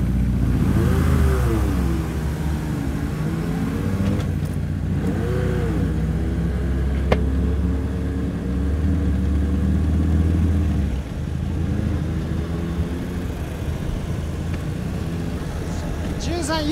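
A Harley-Davidson motorcycle rides through Shibuya traffic, its engine rumbling loud and close with rising and falling revs and steady wind noise. Occasional talking is heard over it.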